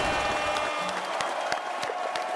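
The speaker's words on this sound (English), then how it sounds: "And an applause for that." Scattered applause and crowd noise rise from a small audience, with sharp individual claps standing out over a busy background.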